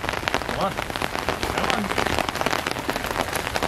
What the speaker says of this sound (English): So today it's kind of like a mild rain.